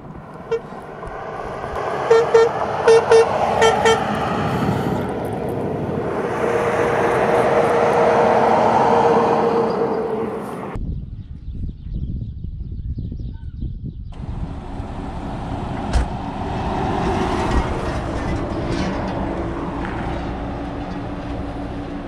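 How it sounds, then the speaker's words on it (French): Traffic noise with car horns tooting and a train going past, loud dense vehicle rumble and honks at first, then a sharp cut to a quieter stretch of scattered engine and horn sounds. "faire commencer le son de ces véhicules avant de les voir"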